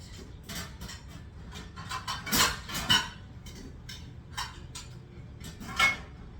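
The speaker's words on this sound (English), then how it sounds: "Let me get another frying pan out." Pots and pans clank and rattle close by as a frying pan is taken out, with scattered metallic knocks and a louder clatter midway.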